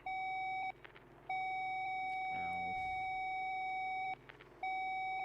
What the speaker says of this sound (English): My ears don't like beeping sounds like this